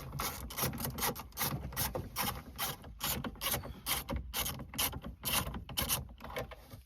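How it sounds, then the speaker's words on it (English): A hand ratchet loosens 10mm bolts from a car dashboard bezel during a stereo installation, producing rapid, close bursts of metallic clicking in repeated strokes with brief pauses between them. "So let's go ahead, take these 4 10mm bolts out."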